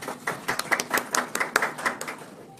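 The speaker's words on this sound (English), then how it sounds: "Is it just me, or are those claps very, very timid?" Sparse, hesitant applause from a small group at a contract signing ceremony, a dozen or so uneven claps spread over a couple of seconds, fairly close and with no voices.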